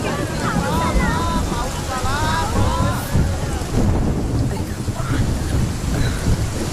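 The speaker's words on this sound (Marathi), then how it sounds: "अगं बघ पाऊस किती जोरात पडतोय।" Heavy rain pours with low thunder rumbling, a dense roar of water with wind buffeting, while voices speak over it partway through.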